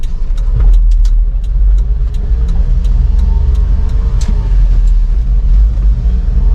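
A Japanese mini 4x4 kei truck engine drones loudly and continuously up close during a test drive, a low rumbling hum with occasional clicks and rattles from the cab.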